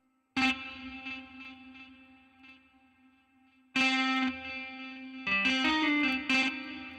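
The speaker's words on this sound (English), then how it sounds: "I got that on the default patch that has reverb on there" A synth patch in Reason Studios plays sustained chords with heavy reverb tails trailing off between bursts, a long decaying wash after the first chord and denser stabs later.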